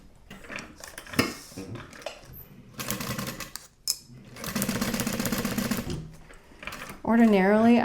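A sewing machine runs in sustained bursts, basting layers of a sport duffel bag together, its needle rattling steadily up close between short pauses and handling clatter, with a voice speaking at the end.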